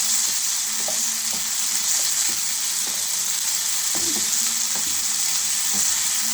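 Green peas sautéed in a hot tempering of oil with ginger-garlic paste, a steady close sizzle broken by intermittent scraping stirs of a spatula against the pan, with no voices.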